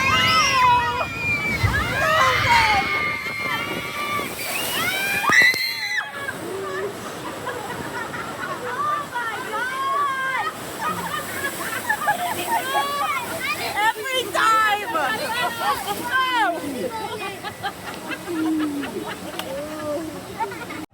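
Water sloshes and splashes around a raft on the Kali River Rapids ride at Animal Kingdom, continuous and loud, while riders talk and shout over it.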